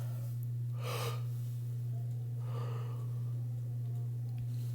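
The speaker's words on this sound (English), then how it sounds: "That was me yawning" Two long, breathy yawns, each rising and fading over about a second, separated by a pause, over a constant low electrical hum in a quiet room.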